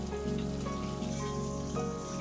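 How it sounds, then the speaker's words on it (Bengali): Salt-and-turmeric-rubbed queen fish pieces fry in oil, producing a dense, steady crackling hiss like rain on a surface, close and unbroken, with a faint tonal hum beneath. "এইভাবেই সব কটা মাছ ভেজে নেব।"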